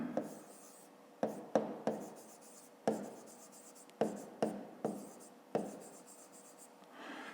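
Numbers are written down on paper during a fifth-grade maths exercise: a series of short, distinct pen taps and scratches in an irregular rhythm, close and fairly quiet, with no talking.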